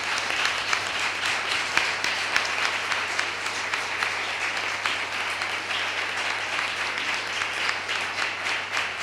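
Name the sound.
audience applause for the minister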